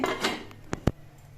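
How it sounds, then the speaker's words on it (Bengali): A lid goes onto a pan of banana stem simmering with water, salt and turmeric. Two sharp metallic clinks land close together and fade into a faint simmer, with no talking. "তারপর একটা ঢাকনি দিয়ে ঢেকে দিচ্ছি"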